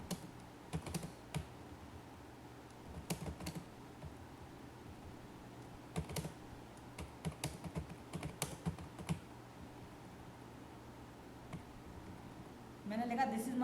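Someone typing HTML code on a computer keyboard, irregular clusters of quiet key clicks with pauses between bursts, heard close under a faint steady background hiss.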